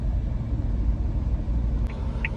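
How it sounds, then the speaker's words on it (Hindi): Car engines in a road traffic jam rumble as a steady, loud low drone that fills the whole stretch, with no talk over it. "भाई ये जो ट्रैफिक लगा हुआ है ना"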